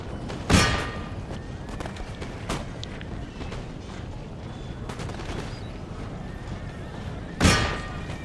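Cavalry horses in the Empire Total War siege of Rome give two sharp whinnies, one near the start and one near the end, over a steady battlefield din of distant musket fire and rumble.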